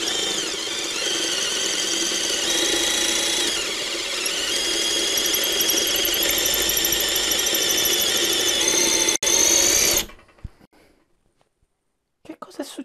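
A DEKO 20V cordless drill-driver runs steadily for about ten seconds, a loud continuous high whine with a squealing edge, then stops abruptly and falls nearly silent before a faint clatter at the end.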